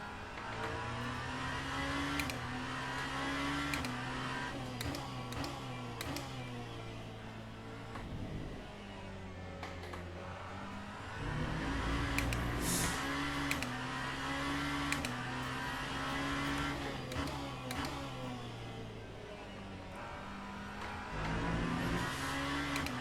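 Genesis hypercar engine on a lap in Le Mans Ultimate, a continuous loud engine note revving up and down through gear changes with short shift cuts, steady throughout without talk.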